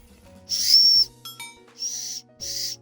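Three soft, breathy whistle blows, each about half a second, separated by short pauses with faint background sounds.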